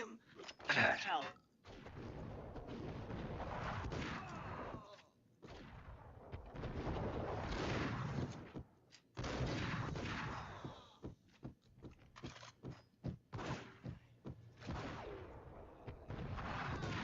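Gunshots ring out in Max Payne, with repeated sharp blasts and bursts of fire scattered across the stretch among quieter gaps, mixed with talk.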